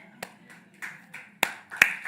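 A few people clap during a Sunday church service, sparse, uneven claps, a handful of sharp separate strikes over quiet background, with no steady rhythm.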